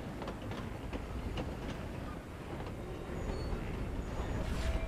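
Train running on rails in the RailGrade video game, a steady low rumble with faint rhythmic clatter throughout, growing slightly louder toward the end, with no talk over it.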